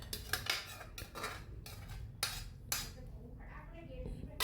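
Capsicum and roasted paneer tip into masala in a pan for paneer butter masala, with a series of spoon-and-pan clatters and scraping knocks, fairly quiet and close.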